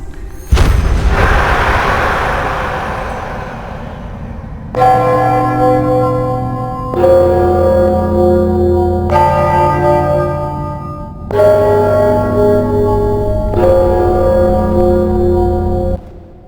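Deep, echoing church-style bells toll in the fantasy role-playing game Enderal, starting with one loud booming strike that decays, followed by a series of sustained tuned bell tones in rhythmic succession, loud and reverberant with no talk.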